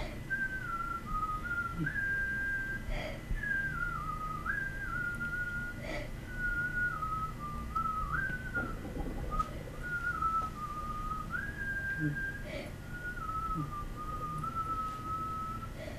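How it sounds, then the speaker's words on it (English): A person whistles a wandering melodic tune in steady, continuous phrases over a low background hum, with faint knocks now and then; no one speaks. "Is that you whistling?"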